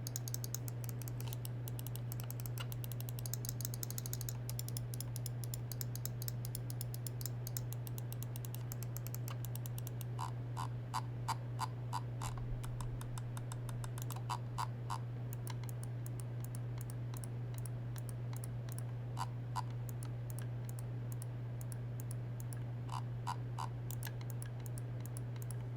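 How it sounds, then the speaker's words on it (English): Rapid, dry clicking in quick bursts, close up, from a Logitech G303 Shroud Edition gaming mouse's buttons and scroll wheel ticking, over a steady low hum with no talking. "let's drop a sound test so you can hear what this mouse sounds like."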